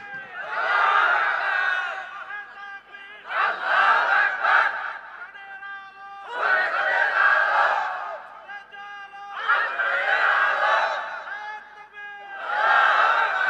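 A crowd at an Islamic preaching gathering in Malipara, Khetlal, Joypurhat shouts slogans together in loud, rhythmic bursts that swell and break off in repeated waves, with call-and-response energy.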